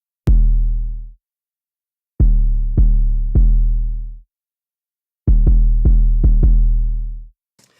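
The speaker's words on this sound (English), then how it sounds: "So we start with this basic 808" Basic 808 drum, deep booming sub-bass hits with sharp clicks at the onset, played in a sparse pattern: one long hit, a group of three, then a quick run of five, each decaying slowly, with no talk.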